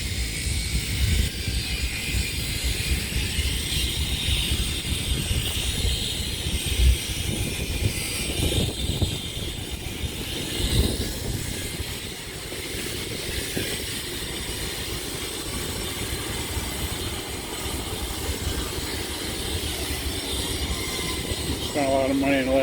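Train at the Hudson Amtrak station, steel wheels rolling on rail, giving a steady loud rumble and grinding roar that holds for the whole stretch, with faint talk in places.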